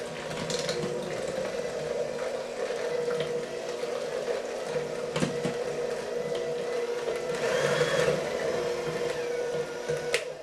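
An electric mixer runs on low speed through mashed potatoes for a twice-baked casserole, giving a steady close whirring drone with faint mechanical rattling throughout and no talking.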